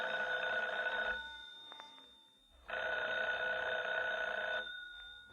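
An old-style telephone bell rings twice in a radio drama, two long metallic bursts separated by a pause, clear and fairly close with no talking over it.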